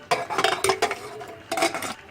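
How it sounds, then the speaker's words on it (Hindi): Metallic clanks and scrapes as a pressure cooker lid is fitted and twisted shut, two short bursts of handling close up, no talking. "कुकर बंद कर देंगे।"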